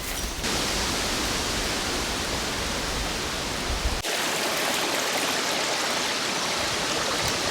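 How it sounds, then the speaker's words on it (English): Silver Creek flowing near Lake Superior, a loud continuous rushing of water with a brief dip and shift in tone partway through, alone with no voices. "I love this creek. This is Silver Creek."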